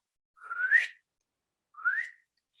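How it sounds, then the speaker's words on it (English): Groundhog warning whistles, two rising high-pitched calls separated by a short pause, clear and alone against silence. "when they're threatened by a predator and they want to let everybody know there's danger, they'll whistle"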